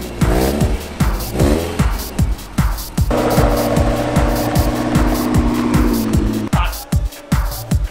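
Modified car with a loud tuned engine being driven, revving hard through repeated gear changes with a rasping, pulsing exhaust note, close and dominant.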